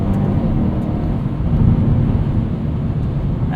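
Steady broadband tire and road roar fills the cabin of a 2021 Hyundai Veloster N DCT driven at night, a constant low rumble with no speech, even in level from start to finish.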